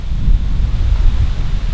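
Strong wind blowing through a wilderness forest, a loud, steady low rumble of gusts buffeting close by, with no voices.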